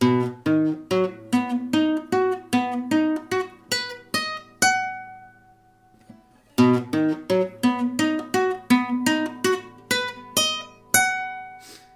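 Plucked classical guitar notes from Albéniz's "Asturias (Leyenda)" in a steady flowing pattern, a brief pause with a ringing note, then the pattern resumes, played solo and clear.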